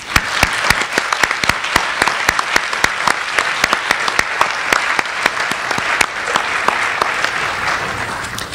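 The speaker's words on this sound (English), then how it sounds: "Let's give them a round of applause." Sustained applause from an audience at an IEEE-USA awards ceremony, dense steady clapping with occasional sharper claps, fairly loud and continuous throughout.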